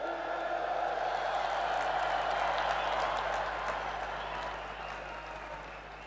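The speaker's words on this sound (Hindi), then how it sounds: "इतनी जोरदार तालियां हो कि जेएलएन स्टेडियम गूंज उठे" Applause from a large crowd at a corporate Safe Shop event in the JLN stadium, a broad sustained wash of clapping that holds steady and then eases slightly toward the end, with faint voices mixed in.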